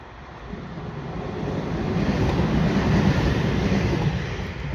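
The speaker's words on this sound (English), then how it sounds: "That's the train to Sheffield." A train to Sheffield passes at a distance outdoors, a broad rumbling roar that slowly swells and then eases, blended with buffeting wind on the microphone.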